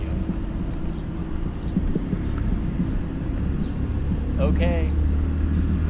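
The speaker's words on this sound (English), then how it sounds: "there's the tuk-tuk that usually come really fast and almost run you over" A tuk-tuk auto rickshaw passes on a street in San Pedro near Lake Atitlan, its motor a close, rising rumble under traffic noise and wind, with one brief spoken word.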